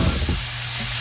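Wine poured into a hot pan of nicely browned onions sets off a loud, close sizzle and hiss that flares at first, then settles into a steady bubbling fry, with no talking.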